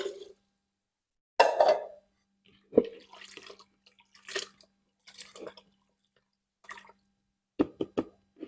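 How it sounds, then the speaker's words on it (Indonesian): Water being poured in bursts into a container holding a banana and rice liquid fertilizer mix, two liters in all, with splashes and plops separated by pauses, close and fairly clear. "Tambahkan sampai airnya habis 2 liter."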